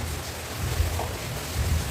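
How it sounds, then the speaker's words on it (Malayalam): Heavy rain during a thunderstorm, a dense steady roar of downpour with low rumbling swells, heard on its own without talk. "ഇത് ഇടിവെട്ടി മഴ പെയ്യുന്നുണ്ട്"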